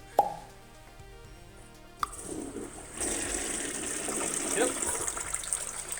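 A toilet with a newly fitted Fluidmaster 400A fill valve flushes away a little soaked paper: a sharp plop, then a loud, steady rushing gush of water that keeps on, with one brief word spoken near the start.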